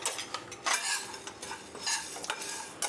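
Cloves and fenugreek dry roasting in a pan, with a utensil scraping and clinking against the metal in quick, irregular stirring strokes, quiet and close, with no talking.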